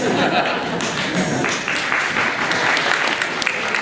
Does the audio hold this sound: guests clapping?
yes